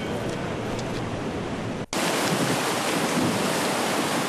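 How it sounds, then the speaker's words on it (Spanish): Tsunami waves flooding the city of Miyako, Japan, in March 2011: a continuous, loud roar of rushing water and surf, broken by a brief cut before growing brighter and harsher; no voices. "las enormes olas destrozaron todo lo que encontraron a su paso"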